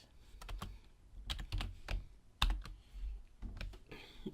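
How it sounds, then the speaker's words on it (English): Typing on a computer keyboard, close and quiet, in irregular bursts of quick clicks with short pauses between them, no talking. "actually first let me type this in"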